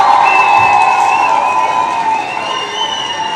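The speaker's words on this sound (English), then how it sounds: "let's give Brian a round of applause" An audience cheers and shouts loudly after a live conversation. The crowd noise is dense and sustained, carried by a bright whistle-like tone, and fades slightly toward the end.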